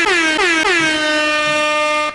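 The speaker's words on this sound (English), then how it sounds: "We gotta keep the air horn" A loud air horn blares three quick short blasts, then holds one long sustained blast that cuts off abruptly.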